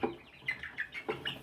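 Small chicks peep in quick, high, repeated calls while being lifted out of their cage, several short bursts close by with no talking.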